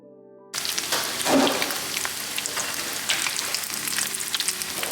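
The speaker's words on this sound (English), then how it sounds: "I'll just cook the other side and take it out of the pan when both sides are crispy" Crispy chicken flautas fry in a pan with a steady, dense sizzle and crackle that starts abruptly and continues close up without talk.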